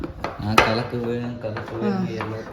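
A spoon clinks and scrapes against a bowl as a child mixes cupcake batter, with one sharp clank near the start and steady stirring after, over a faint background voice.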